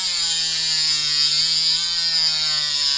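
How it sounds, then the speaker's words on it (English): A Dremel rotary tool cutting a part for a Carrera slot car, a steady high-pitched whine with a strong, even drone running unbroken for the whole stretch, close and loud with no talking. "So I just use good old Dremel."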